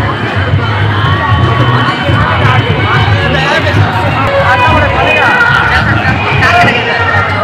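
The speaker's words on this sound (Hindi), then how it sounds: "बहुत ज्यादा ही भीड़ है।" Dense crowd hubbub inside a busy shopping mart during Mahashivratri celebrations, a loud continuous babble of many overlapping voices with shouts, close and enveloping throughout.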